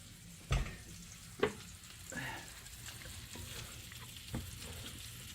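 An onion ring fries quietly in lard with a soft, steady sizzle, broken by a few knocks and clinks of a utensil against the pan.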